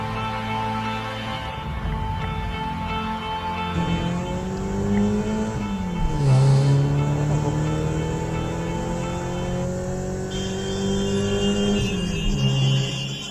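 A car engine idles, then revs and pulls away, its steady hum rising and shifting in pitch over several seconds with a brief high whine, loud and close.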